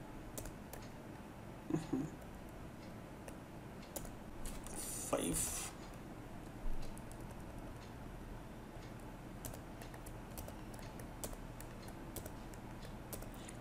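Soft, sparse keystrokes come from a computer keyboard while a Python program is given input. The taps are quiet and scattered over a low, steady room hum.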